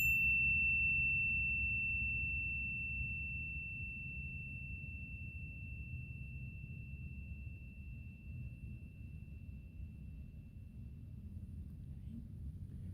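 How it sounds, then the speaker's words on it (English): A single chime struck once, its clear ringing tone sustaining and slowly fading over many seconds until barely audible, heard alone above a low steady room rumble. "listening to the sound of the chime until you can no longer hear it"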